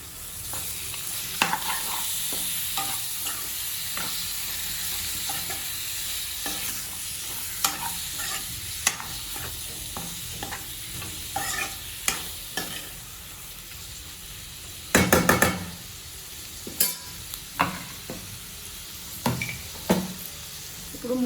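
Ulava kaya (horse gram pods) frying in a pan and being stirred: a continuous low sizzle broken by sharp spoon scrapes and knocks, with a louder cluster of strokes partway through.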